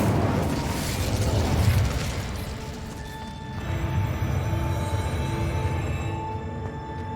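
Incendio fire spell cast in Hogwarts Legacy, a loud roaring burst of flame with crackling rumble that swells, dips briefly, then surges again before trailing off under a faint sustained tone.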